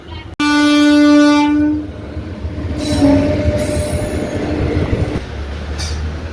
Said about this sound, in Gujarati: આપણે ટ્રેન લેવાની છે વિડીયોમાં